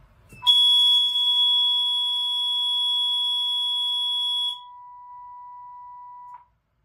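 A Fire-Lite MS-9600UDLS fire alarm system sounds after a duct detector is activated: a loud, steady electronic tone holds for several seconds, then drops to a quieter continuous tone before stopping.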